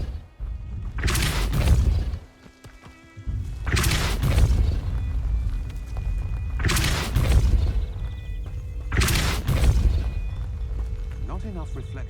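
Depulso push spell cast in Hogwarts Legacy, repeated in four loud, booming, whooshing blasts at regular intervals over a steady game backdrop with a brief lull.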